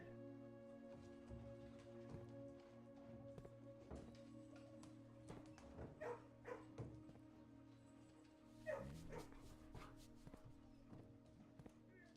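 Several dogs in a kennel in a video game bark, yip and whimper in short scattered bursts over a steady background music bed, with a voice talking now and then.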